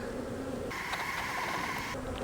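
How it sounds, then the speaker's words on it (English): Honey bees buzz steadily in an open beehive during a frame inspection, a dense, continuous hum that swells louder partway through as the colony is disturbed. "Smoke out your pinch points. Get the bees out of there."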